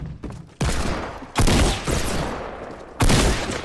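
Shotgun blasts in Fortnite boom loud and close, three sharp reports with ringing decay between them over about four seconds.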